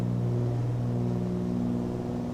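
Cessna 414 twin piston engines drone steadily in Microsoft Flight Simulator, a loud, even, humming rumble with a constant pitch throughout and no voices.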